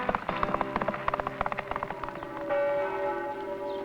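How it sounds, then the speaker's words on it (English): Rapid, clanging peals of the church bells of St. Fidelis, the Cathedral of the Plains in Kansas, ringing in quick succession, shifting into a sustained resonant hum as the ringing blurs together. "The bells of St. Fidelis, the Cathedral of the Plains, still ring out across the prairies"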